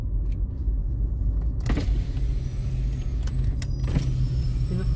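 Truck descending a steep mountain road in the Serra da Viúva, Minas Gerais, with a steady low engine drone and rumble inside the cab and a couple of brief higher bursts of hiss, likely brakes, with no talking.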